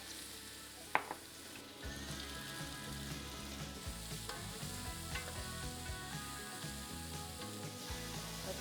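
Peppers fry in a pan alongside softened, salted vegetables for venison stuffed peppers: a soft, even sizzle, preceded by one sharp knock as they drop in, then quiet stirring clicks.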